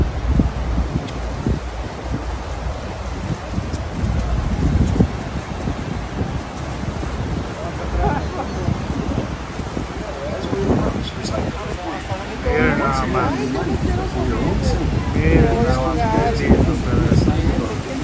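The thunderous roar of Niagara Falls, heard up close from a boat where plastic ponchos are handed out against the spray: a constant heavy rush mixed with wind buffeting the microphone, while people talk over it.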